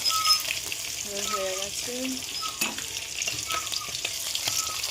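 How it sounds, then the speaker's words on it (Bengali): Fish frying in a pan in a home kitchen gives a continuous hiss and sizzle that stays fairly steady throughout. A voice speaks briefly over it, and a few faint tonal sounds drift in the background. "এখানে মাছ ভাজা হচ্ছে"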